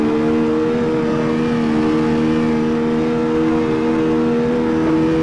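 A race car in the CarX Street mobile racing game holds a loud, sustained high-speed engine drone at a steady pitch, alone with no voices, through the whole stretch.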